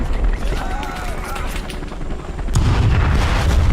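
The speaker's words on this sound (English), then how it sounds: "We're going to call in some artillery to cover these guys." Call to Arms artillery fire in a Vietnam War battle: distant rumbling blasts and gunfire, swelling into a heavier, louder barrage near the end, with someone talking over it.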